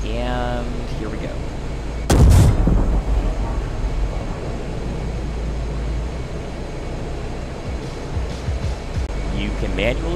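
A T-80B tank in a video game fires a gun-launched anti-tank guided missile, giving one sudden loud blast followed by a rumbling tail under constant engine drone, with someone talking before and after the shot.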